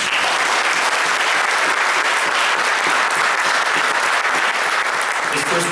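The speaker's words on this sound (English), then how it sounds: "Can we please give our concert band a round of applause?" Sustained audience applause at a high school concert band festival concert, a dense, even wash of many hands clapping steadily throughout at constant loudness with no talk over it.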